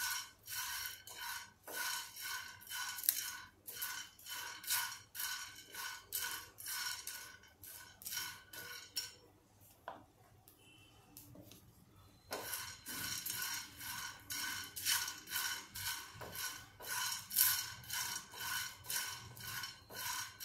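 Cloves and black pepper dry-roasting in a pan for homemade pav bhaji masala, giving a steady, close rhythmic scraping and rattling as the spices are stirred, with a brief quieter pause near the middle.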